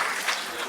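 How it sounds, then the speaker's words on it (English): Audience applause fills an auditorium at the closing session of a legal event, a brief, steady wash of many hands clapping at moderate loudness with no voices over it. "May we have a round of applause, please?"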